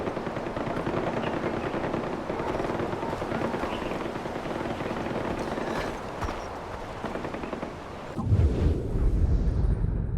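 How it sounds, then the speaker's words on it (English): Rapid, continuous bursts of video game gunfire crackle without pause in Far Cry 4's Kyrat, with a deeper heavier blast near the end; no one speaks. "it seems like kyrat just has endless gunfire"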